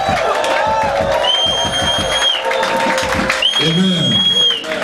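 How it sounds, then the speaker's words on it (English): A church congregation claps together in a rhythmic, close, loud pulse, with cheering, whoops and raised voices mixed over the clapping. "Clap your hands unto God. Clap your hands very well."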